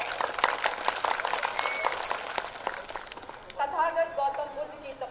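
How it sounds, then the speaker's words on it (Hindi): A crowd at a political party's general assembly claps loudly and steadily for an arriving speaker, then the applause fades as a voice takes over on the microphone. "जोरदार तालियों के साथ स्वागत।"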